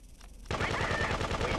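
Rapid machine-gun bursts ring out in the video game Grand Theft Auto 2: a fast, even rattle of shots starts abruptly and keeps going without a break.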